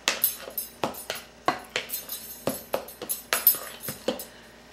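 Rhythmic clinking of a utensil against a bowl as bananas are mixed into waffle batter, a quick series of bright taps and scrapes, close and loud with no talk.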